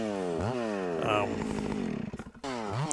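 Ported Farmertec Stihl clone chainsaw, an MS880, MS460 or MS440 kit saw, running loud and close, revving up and easing off with a harsh buzzing roar and a brief dip near the end.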